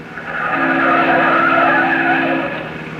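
A car skids around a city street corner in an old-time radio drama sound effect, one loud sustained tire squeal that swells in and fades out over a few seconds, heard on its own.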